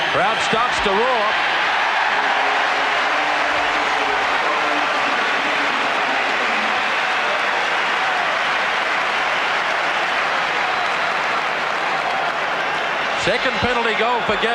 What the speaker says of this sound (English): Crowd starts to roar.